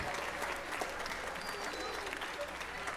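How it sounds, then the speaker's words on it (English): An audience at a middle school spring band concert applauds a band student: a dense, steady wash of clapping from many hands that holds at an even level throughout, with a few faint whistles or voices mixed in. "a nice round of applause for Sophie"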